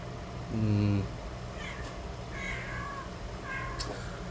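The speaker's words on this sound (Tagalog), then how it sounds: "pasensya kayo, medyo maingay itong pusa namin dito" A house cat meows indoors three or four times in separate calls, each rising and falling, over a steady background hum, with a brief low voice-like sound early on.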